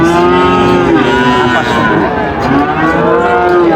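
A Sahiwal bull moos loudly and close by in two long, drawn-out calls at a cattle market, with a faint voice and background chatter underneath.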